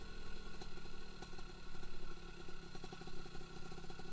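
A Suzuki Satria 120 cc two-stroke motorcycle, freshly rebuilt to stock, runs steadily at a beach runway with a faint, buzzing, rattly idle that pulses slightly, without speech.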